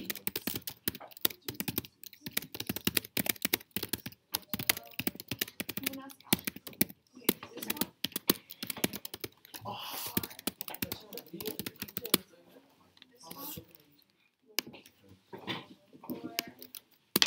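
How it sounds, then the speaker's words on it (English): Rapid, steady clatter of keys on a computer keyboard, fairly quiet and close, going on for most of the stretch, with a few pauses and people talking. "What you typing?"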